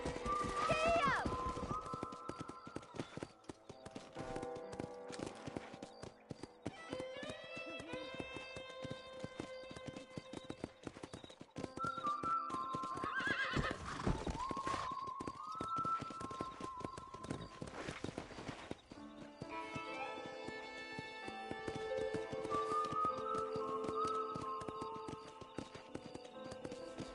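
Horse hooves clip-clop at a steady gallop in the Western game Red Dead Redemption, with an occasional whinny and music-like tones layered over a continuous bed of sound, and a rider's voice urging the horse on.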